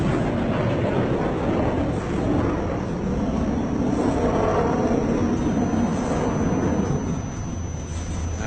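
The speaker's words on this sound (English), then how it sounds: "Now the aircraft powering back." A JF-17 Thunder fighter jet at the Dubai air show: continuous loud roaring jet engine noise sustained throughout, with broad rumble swelling slightly and steadily as it passes.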